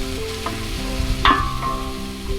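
Onions fry in a pan for a Hungarian stew, giving a close, steady sizzle broken by a few short stirring scrapes.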